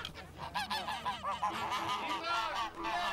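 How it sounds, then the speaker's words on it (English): Geese brought out for traditional spring fights honk loudly and repeatedly in harsh, overlapping calls, several birds close by, with no speech. "Geese were also brought out for traditional fights."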